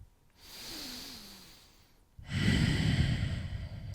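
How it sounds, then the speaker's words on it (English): During a morning yoga stretch, a person draws a slow, audible breath in and then releases a louder, rushing exhale, close and clear with no talking. "We'll do one more breath here."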